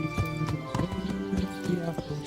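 Horse hooves clopping at a steady walking rhythm in Kingdom Come Deliverance 2, close and fairly loud, with a man singing a tuneful folk song over the top.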